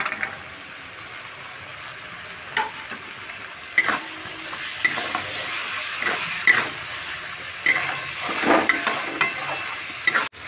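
Green peas tipped into a hot pan and stirred: a steady sizzle under scattered scraping and clinking strokes of a spoon, with a few louder knocks, close and fairly even, no talk.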